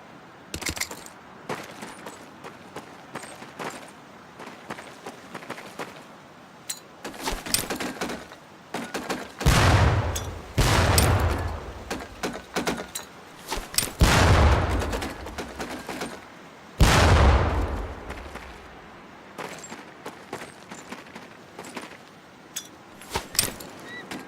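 Training grenades thrown at barrels in the video game Medal of Honor set off several heavy low thumps and bursts, each followed by crackling debris, spread over a busy stretch of scattered clicks and clatter.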